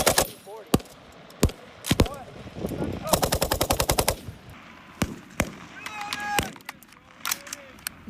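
An M240B machine gun fires during a training exercise with a law enforcement battalion, sounding as loud close bursts and single shots, including one rapid rattling burst, with shouted commands and talk between the volleys.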